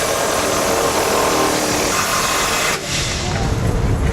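Impact wrench driving trailer hitch bolts into the frame rail of a 2015-2026 Ford Transit van, a loud, steady rattling whir running nearly continuously with a brief dip partway through.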